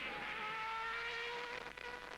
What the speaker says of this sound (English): Alliot passes